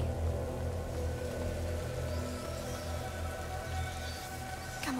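Steady rain in A Plague Tale: Innocence hisses continuously as an even, close wash of pattering drops over a low rumble, with a faint brief tone near the end.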